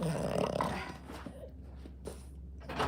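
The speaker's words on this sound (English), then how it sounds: "That's my dog," A dog growls low and close, a rough, rumbling burst at first that eases into quieter snorting grumbles and brief snuffles.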